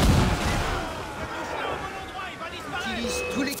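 Booming cannon blasts in the video game Assassin's Creed IV: Black Flag roll out at the start and keep rumbling underneath, with music and a faint voice layered over the din.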